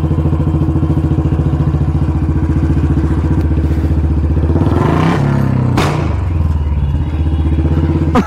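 A Royal Enfield Bullet 350 with a changed bend pipe and short exhaust idles with a steady loud thump, then bursts into a rapid crackle of exhaust pops like firecrackers near the middle, close and loud throughout.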